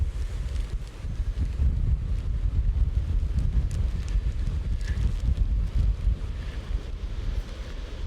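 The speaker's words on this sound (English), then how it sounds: "the wind's blowing this way" Strong gusts from Storm Agnes buffet a DJI Mini 2 drone, a steady loud rumbling roar of wind across the microphone with brief flutters, continuous throughout with no talking.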